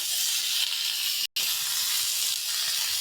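Onions dropped into hot oil in a pan for a Bengali fish curry, giving a loud, steady close hiss and sizzle that cuts out for a split second before continuing.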